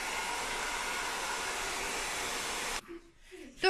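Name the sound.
hair dryer drying small craft sticks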